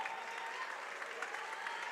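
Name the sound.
applause from TLU fans at basketball game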